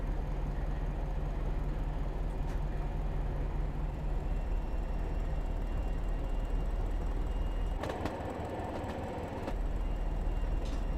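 A British Rail Class 205 Thumper diesel multiple unit in Train Simulator Classic drones steadily with a constant low engine rumble and rail noise, and a brief change near the end like a door or passing clatter, with no speech.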